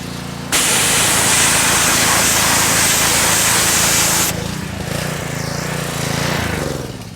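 A pressure washer blasts a heavily soiled, degreased car engine with high-mileage grime, a loud steady hiss and rumble that cuts off abruptly partway, leaving a lower motor drone.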